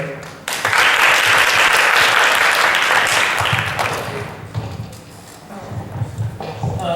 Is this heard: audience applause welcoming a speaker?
yes